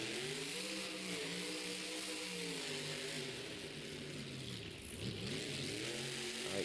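A Monster Jam monster truck engine revs through a racing run in an Oakland stadium, its loud, steady growl rising and falling in pitch with no one speaking close by.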